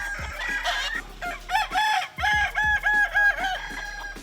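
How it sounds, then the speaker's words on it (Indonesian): A Kukuak Balengke rooster crows in a long, stepped, multi-stage call, loud and fairly close, with repeated rising and falling notes and no talk over it. "kokoknya yang khas membuat ayam ini digemari"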